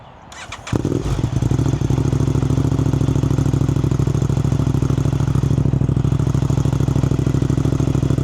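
Aprilia RS660 motorcycle fitted with an SC Project CRT exhaust starts up with a brief crank, then settles into a loud, steady, deep idle close by with no voices.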